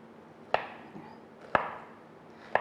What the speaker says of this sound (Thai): หั่นมะม่วงเป็นลูกเต๋าค่ะ